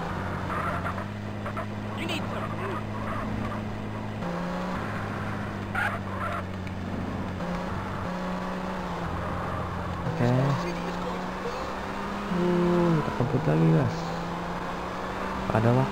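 A car is driven in a GTA driving game, its engine drone holding steady, then rising and wavering as it accelerates, with honk-like tones, while a person talks over it throughout.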